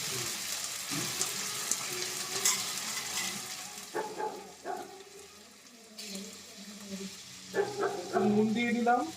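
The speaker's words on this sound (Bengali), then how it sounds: "তো ফুলকপিটা ভাজতে গেলে এই জল থাকে, তো জলটার জন্য গায়ে ছেটায়" Cauliflower florets fry in hot oil, giving a faint, steady sizzle with occasional spatters from water in the vegetable, while a voice talks over it in bursts and a dog barks now and then.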